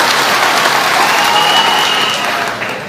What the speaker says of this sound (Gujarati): ફરી એક વખત બ્રિજરાજભાઈ માટે જોરદાર તાળીઓ થઈ જાય